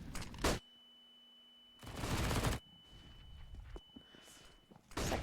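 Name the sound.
M4 rifle gunfire in the video game Counter-Strike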